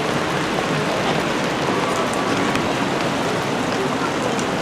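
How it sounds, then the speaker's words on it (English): Heavy rain pouring outdoors, a loud, dense, unbroken hiss of drops with no pauses across the whole stretch. "it's raining, man. It's raining heavy, and our stuff is getting wet too"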